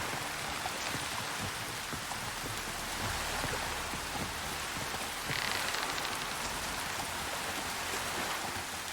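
Rain pours in The Witcher 3 video game, a steady hiss of dense drops falling on surfaces with a faint low rumble beneath, continuous and moderately quiet throughout.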